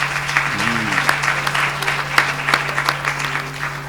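An audience applauds at a book dedication ceremony with dense, continuous clapping throughout, and a few faint voices mixed in.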